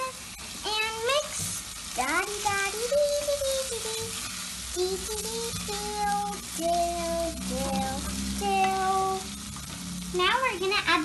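A vermicelli biryani mixture sizzles in a frying pan while being stirred, a moderate frying crackle with scraping, partly under the voices of people speaking nearby.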